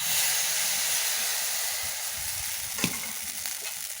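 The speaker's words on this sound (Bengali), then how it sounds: "হাতার সাহায্যে এক হাতা ব্যাটারটা দিয়ে দিলাম" Semolina pitha batter sizzles steadily in an oiled clay pan, a bright continuous hiss close up with one sharp crackle near the end.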